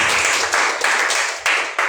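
A church congregation claps for the Lord during Sunday worship, a dense, steady roar of many hands with brief surges, no voices over it.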